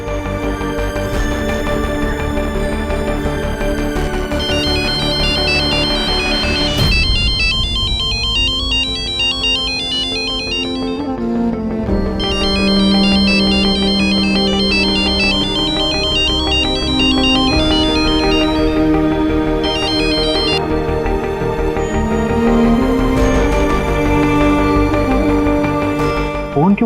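A loud melodic phone ringtone plays continuously for the whole stretch, its tune repeating over a steady musical backing with no talking.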